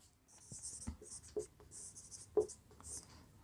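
Pen or chalk writing out a maths solution by hand, soft scratchy strokes in short bursts with a few light taps, faint and close.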